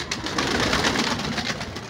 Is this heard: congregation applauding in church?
no